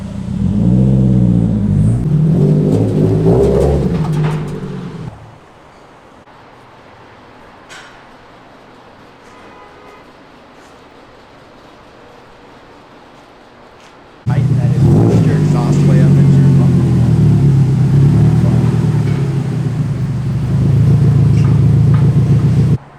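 A Subaru STI on the road heading to a dyno, its engine rumbling and revving loudly up close, dropping away to near quiet in the middle before surging back strong.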